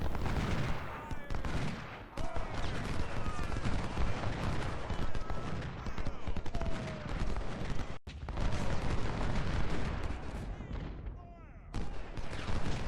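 Battle sounds from the Civil War strategy game Ultimate General: Civil War, with dense continuous musket fire and booming artillery rolling without pause, loud and chaotic, with a brief cut in the middle.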